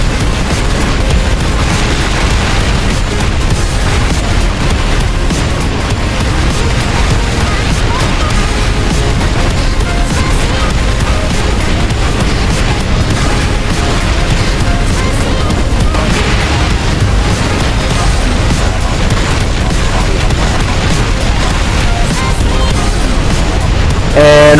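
A prolonged, loud rumbling blast in Minecraft, with dense booming and crackling that keeps going without a break for over twenty seconds.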